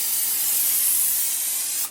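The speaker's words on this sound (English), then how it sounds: "I'm going to spray some Pam." Pam cooking spray hisses steadily out of the can onto a pan for nearly two seconds, a loud, close, continuous aerosol spray that cuts off abruptly at the end.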